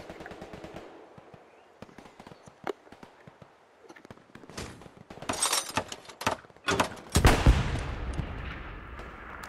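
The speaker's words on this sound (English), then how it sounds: "Bombing run, then we'll push." Bombing run in Hell Let Loose, starting with scattered distant cracks and pops, then swelling into a string of loud, booming blasts that pile up near the end.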